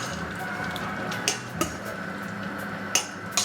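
Fusilli and penne pasta being stirred in a single pot for a vegan chickpea coconut curry, with a steady low bubbling bed and a few sharp scraping clinks of the spoon against the metal.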